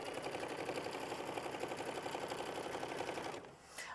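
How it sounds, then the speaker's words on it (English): A sewing machine stitching fabric down for a quilt block in a sampler, running with a fast, steady mechanical whir and rattle for over three seconds before abruptly stopping, close and loud. "we're going to sew it down. So this is machine stitch step 7 that we're currently on"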